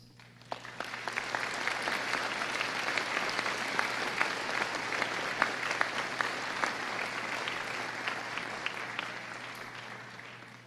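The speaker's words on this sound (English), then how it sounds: "to recognize family and friends with a round of applause" A graduation convocation crowd gives a sustained round of applause honoring family and friends, dense clapping rising quickly and holding steady for about ten seconds at a moderate, distant level.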